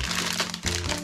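Close crinkling and rustling of a green plastic bag of spicy Mexican corn snacks, handled in a quick burst of crackles over about a second with a low background hum.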